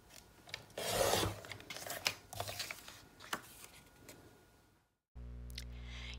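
Paper being cut to size for a Valentine's Day conversation hearts slider box, a close rasping cut swelling loud for a few seconds, then a brief silence followed by a steady hum.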